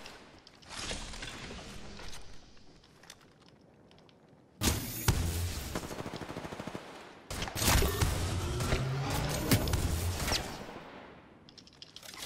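Video game gunfire crackles in rapid, dense bursts, with sustained loud volleys in the second half and lighter shots earlier, heard close with no talk over it.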